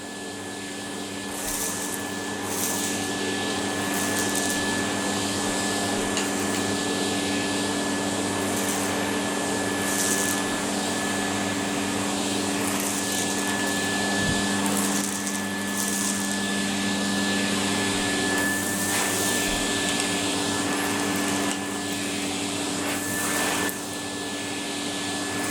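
Vacuum cleaner running steadily for the whole stretch, a loud continuous motor whine with a fixed tone, pushed around a carpet with feet instead of hands, no talk over it.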